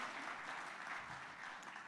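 An audience at a peace convention plenary applauds warmly to welcome a guest, a dense, even wash of clapping that holds steady throughout.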